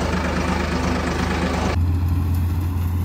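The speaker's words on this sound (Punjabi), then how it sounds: "ਲੋ ਜੀ ਅੱਜ ਦੂਸਰੇ ਦਿਨ ਫੇਰ ਆਪਣੀ ਚੱਲ ਰਹੀ ਆ ਕੰਬਾਈਨ" A combine harvester cutting Pusa-44 paddy in a field, its heavy engine droning steadily and loud up close, with an abrupt shift to a deeper, smoother hum partway through.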